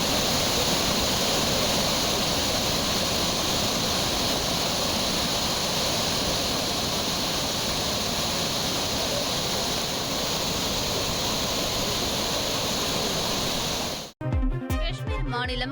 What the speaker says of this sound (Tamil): பாதுகாப்பு வளைவை தாண்டி பேரிரைச்சலோடு தண்ணீர் கொட்டுவதால்